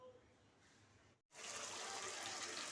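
Water poured into a simmering curry while cooking kofta, a gushing, splashing stream that starts abruptly after a brief pause and continues steadily, following a faint quieter rustle.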